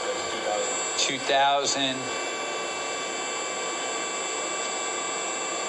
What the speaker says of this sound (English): Right now we're running the spindle.